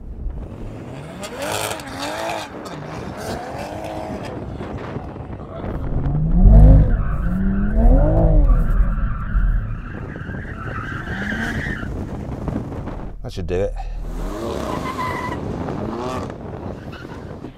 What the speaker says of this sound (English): Now we need to warm up our tyres.